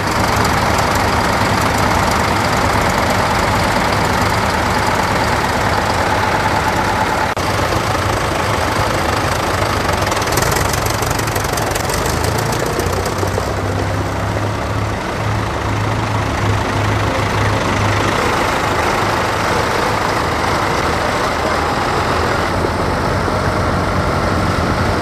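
Doe Dual Drive tractor working a field at a vintage tractor event in Nottinghamshire, its engine rumbling steadily and loudly for the whole stretch with a mix of other machinery noise.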